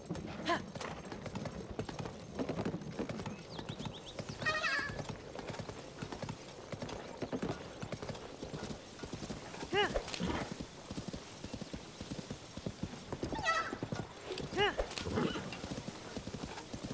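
A horse in a Zelda video game clip-clops along in steady, rhythmic hoofbeats with an occasional whinny, running under near-constant talk.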